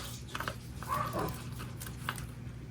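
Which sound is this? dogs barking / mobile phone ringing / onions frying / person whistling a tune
dogs barking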